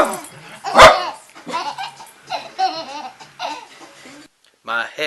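Dogs play close by, one loud sharp bark standing out among a baby's giggles and squeals, with adult voices chatting around them.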